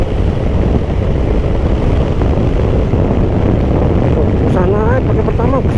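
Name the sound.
Aprilia SR GT 200 scooter engine revving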